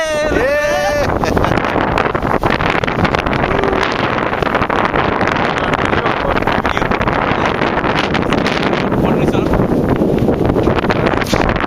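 Wind rushes loudly and steadily across the microphone aboard a sailboat under way on Berkeley Bay, a constant roaring buffet that lasts throughout, with a brief voice near the start.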